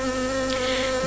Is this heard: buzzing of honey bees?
yes